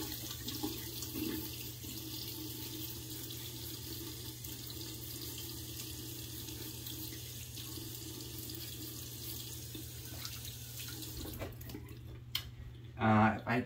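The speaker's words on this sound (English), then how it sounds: "It's a little bit dried up while I was talking, so I'm gonna add some water." A bathroom tap runs steadily to wet a shaving brush, a constant rushing water stream with a low hum beneath it that stops near the end, followed by a brief louder handling sound.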